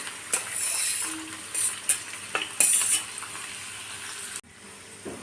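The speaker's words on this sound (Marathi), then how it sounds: "मी बारीक चिरून ते आपल्याला यामध्ये घालायचे तेलामध्ये आणि छान आपल्याला फ्राय करून घ्यायचे आहे" Finely chopped onions frying in oil in a pan, a continuous bright sizzle broken by stirring scrapes and clinks, dropping to a quieter hiss near the end.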